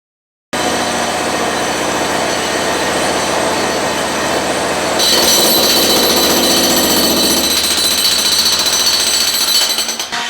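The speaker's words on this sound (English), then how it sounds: "not just the drilling that's happening next door" Loud, continuous construction drilling from an active site next door, jackhammer-like pounding that runs unbroken for about ten seconds and grows harsher and brighter midway, with no voices over it.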